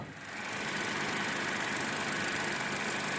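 The engine of a 2019 Toyota Corolla idles steadily with a broad, even hum and hiss, heard up close with no break.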